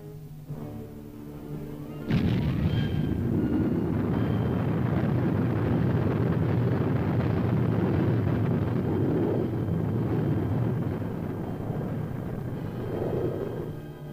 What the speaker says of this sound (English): It was an historical moment when the first rocket plane was launched.